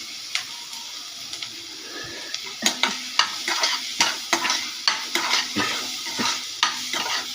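Curry leaves and onion frying in a pan for a moth bean curry, a steady sizzle broken by repeated scraping stirs and utensil clinks against the pan.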